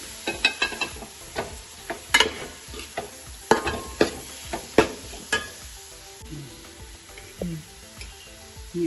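Curry leaves and spices are stirred as they fry in a pan for chicken curry. Sharp, uneven spatula clicks and scrapes sound up close over a light sizzle, with no one talking.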